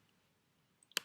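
A single sharp mouse click on a computer lands at the very end after near silence, quiet and close.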